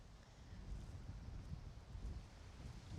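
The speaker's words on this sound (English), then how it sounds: "Ooh, that wind is blowing." Wind gusting across a golf course at Jax Beach, a low rumbling buffet against the microphone that swells and fades in quiet waves, with no voices.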